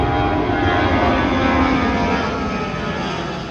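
A fixed-wing airplane passing over a beachside resort near the airport, a steady loud engine roar that holds and then slowly fades toward the end.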